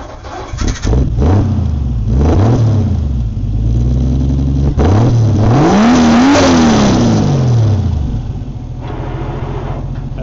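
Racing tractor engines with four, five and six cylinders rev hard, each rising and falling in loud bursts, ending with one long, high climb before settling back to a throaty idle.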